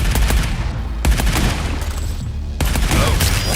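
Assault rifle fire in the arcade shooter Arcadegeddon: loud, close bursts of rapid gunshots broken by short pauses, with sharp transients and a low thudding body.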